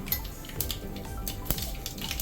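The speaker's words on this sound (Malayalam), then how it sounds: "കടുക് ഇടുകയാണ്" Mustard seeds dropped into hot oil in a pan for Kerala-style lemon pickle crackle and pop with sharp, scattered clicks over a soft, steady frying hiss, heard close.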